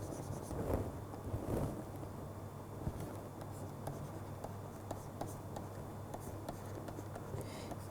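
Pen scratching out equations by hand on paper, soft close strokes and taps in short bursts over a low background hum.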